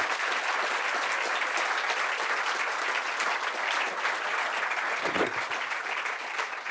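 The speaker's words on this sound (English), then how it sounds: "Ladies and gentlemen, a big round of applause for Peter Frankopan." Dense, sustained audience applause after a talk on the Silk Roads at a 2016 book festival, a steady wash of many hands clapping at moderate distance, running the whole length without speech.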